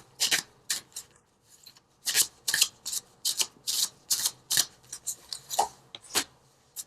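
Oracle cards from the Noah Nafu Visionary deck shuffled by hand, a run of crisp, close riffling and sliding bursts in an uneven rhythm with brief pauses, no talking.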